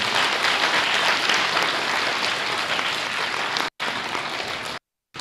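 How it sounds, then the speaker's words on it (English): A large audience at a summer camp finale applauds loudly and steadily, a dense wash of clapping that briefly cuts out twice near the end. "Let's give her one more round of applause"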